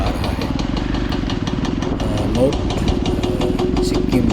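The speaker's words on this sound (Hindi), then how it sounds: "कई बाइकर्स वापस आ रहा है।" Several motorcycles rumble close by beside the Teesta River in North Sikkim, steady engine chugging and revving throughout, with a voice talking over the noise.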